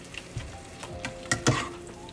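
Ratatouille vegetables with vinegar and hot sauce sizzle quietly in a pan, with a soft frying hiss broken by a few sharp clicks and taps of stirring.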